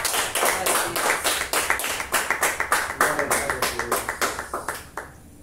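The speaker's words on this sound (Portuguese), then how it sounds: "E aplauda o Senhor Jesus pela sua palavra." A church congregation claps for Jesus in a steady rhythmic beat, loud unison claps repeating evenly about three per second and tapering off near the end.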